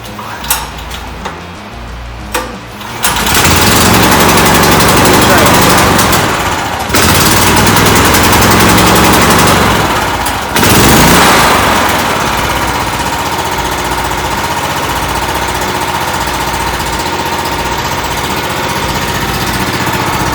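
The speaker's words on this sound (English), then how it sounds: "So I'm gonna let this thing run for a little bit" A DeWalt DXGNR6500 portable generator engine starts up and runs continuously indoors in a shop, a loud, steady mechanical drone with a slight dip in level before settling into an even running note.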